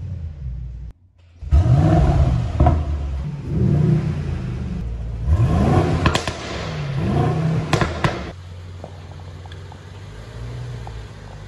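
A 2021 Mercedes-AMG GLS63 SUV engine fires up, then rises through several sharp revs with a crackle and pop on each lift-off. It settles back to a steady idle rumble, close and loud, with no talking.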